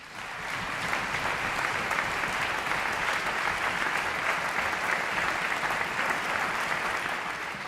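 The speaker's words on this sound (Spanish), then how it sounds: "Y un fuerte aplauso para Lara, por favor." An audience at a municipal band concert in Vitoria-Gasteiz applauds warmly, dense even clapping rising quickly and continuing strongly, moderately close, with no talk over it.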